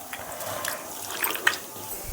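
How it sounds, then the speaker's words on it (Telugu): Water is poured into a pan of prawns coated in spiced masala and oil, making a faint, brief splashing trickle over a couple of seconds. "కొంచెం వాటర్, ఒక హాఫ్ గ్లాస్ వాటర్ వేయాలి."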